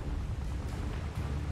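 Confringo blasting curse in Hogwarts Legacy, a dense rumbling explosive burst filling the short moment, loud and close amid game combat noise.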